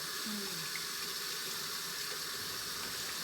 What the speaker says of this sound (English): we're gonna wash our apples, and we're gonna take the stickers off, but we're gonna wash them really, really good.